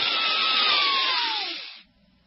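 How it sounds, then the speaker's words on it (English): A slow, deep breath blown out through the mouth makes a steady airy hiss for nearly two seconds, then tapers off into quiet. "and then you blow it out through your mouth slowly."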